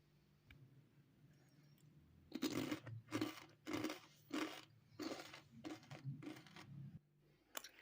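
Homemade fried pasta snacks crunch in a series of about ten sharp, close bites and chews, each a crisp burst, over a quiet background.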